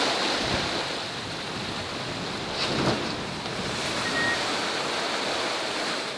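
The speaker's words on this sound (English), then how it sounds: "We've been taking some waves over our stern" Ocean waves wash over the stern of a sailboat on passage, a continuous heavy rushing hiss of surf and spray with a couple of louder surges, mixed with wind, and no voices.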